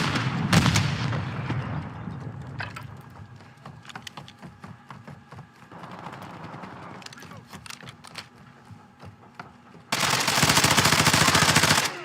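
Gunfire in a military shooter video game: repeated rapid bursts and single shots crackle over a steady background rumble, ending in a loud, dense volley of fire.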